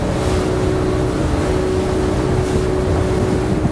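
Engine of a 2024 Seahunt Gamefish 28 motorboat drones steadily underway at trim, a constant loud hum with a sustained tonal whine over rushing water and wind, with no voices.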